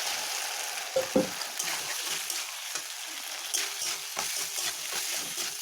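Potatoes fry in oil with cumin, coriander, onion, ginger and bay leaf for aloo dum, giving a steady close sizzle and a few brief stirring scrapes, with no talking.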